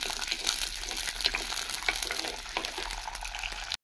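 Moong dal sizzles and fries in a hot pan, a steady dense crackle with a few brighter pops, close and continuous until it cuts off abruptly near the end.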